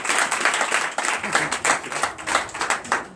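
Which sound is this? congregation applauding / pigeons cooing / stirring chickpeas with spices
congregation applauding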